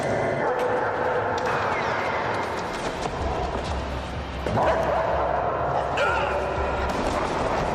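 A police dog barking and yipping in excited bursts during an arrest scene, mixed with shouting voices and background action, loud and close.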